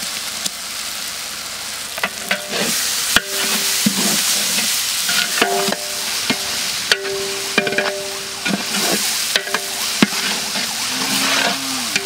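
Stone-ground ginger garlic paste hits hot oil in a large pan at an outdoor village cooking spot for quail, giving a loud continuous sizzle with repeated stirring clanks and scrapes throughout, close by and without talk.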